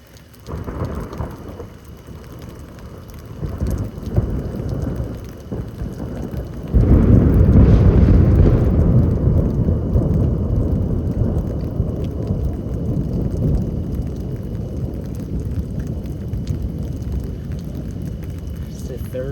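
Heavy thunder rolls and rumbles through a lightning storm over steady pouring rain, growing louder and deeper partway through, while a person talks over it.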